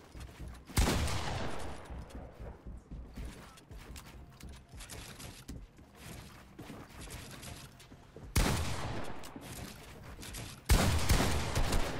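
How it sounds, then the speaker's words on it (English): Shotgun fire in a controller-versus-keyboard 1v1 video game match: three loud, heavy blasts spread across the stretch, with mechanical in-game clatter and rattling in between. "slips in a nice shotgun shot"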